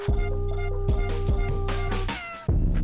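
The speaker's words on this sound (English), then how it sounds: "There's like a little cat that meows." A small cat-like meow sample rises over a dense, loud music track with steady beats and sustained tones, cutting out briefly near the end, in an Ableton track.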